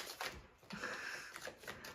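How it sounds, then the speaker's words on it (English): A deck of tarot cards being shuffled by hand, with dry, papery riffling and flicking bursts in quick irregular runs, close up, with no voices. "We're going to do 2 more shuffles"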